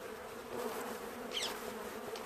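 A honey bee swarm in a hive buzzes in a steady, close drone with no talk.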